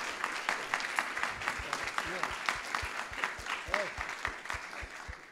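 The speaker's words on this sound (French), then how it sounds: "on vous applaudit d'abord, Jacques." An audience at a seed industry conference day claps steadily for several seconds, a dense patter of many hands with a few sharper individual claps, while voices murmur underneath.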